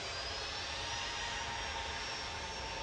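A Ryanair Boeing 737-800, nineteen years old and bound for Milan, lines up at Manchester Airport, its jet engines giving a steady, distant broadband roar and whine without break.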